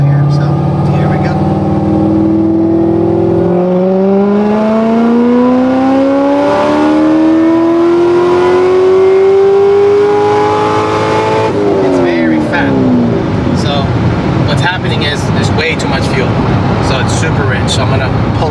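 A 2009 Chevrolet Corvette ZR1 at wide open throttle, its supercharged engine roaring and climbing steadily in pitch through a gear, briefly dropping at a shift and then pulling hard again, loud and close from inside the car.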